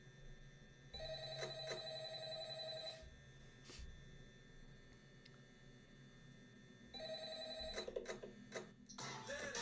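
A telephone rings in the horror video game Five Nights at Tally Hall, two electronic ring bursts separated by a long gap, with faint clicks and game ambience underneath.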